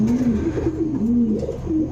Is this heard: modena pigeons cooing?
yes